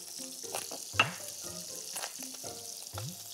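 Poultry frying in butter and oil in a pan, a faint steady sizzle with crackling pops, interrupted by repeated scraping or clinking strokes at a slow rhythm; quiet and close, with no talking.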